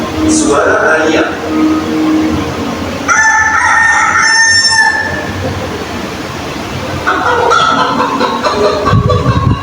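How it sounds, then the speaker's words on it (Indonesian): A rooster crows loudly several times, long rising calls with a few clucks between, over outdoor background noise. "Suara ayam."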